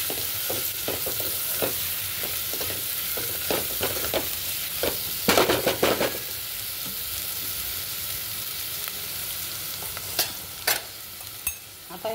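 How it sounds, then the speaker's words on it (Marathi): Tomatoes sauté in a spiced masala for brinjal rice, a soft continuous sizzle broken by repeated scraping spoon strokes against the pan, with a brief louder clatter midway; close and fairly quiet, no voices. "छानपैकी हे टोमॅटो सुद्धा आपल्याला मऊसर होईपर्यंत आता हे मसाल्यामध्ये परतायचे."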